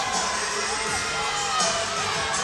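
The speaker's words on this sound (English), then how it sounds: "Good crowd." An indoor crowd at an Iowa State at Iowa volleyball match cheers and shouts continuously, a dense, loud wash of voices with scattered whoops throughout.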